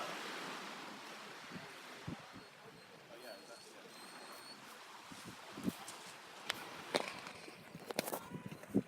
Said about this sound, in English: This is Charlestown Beach.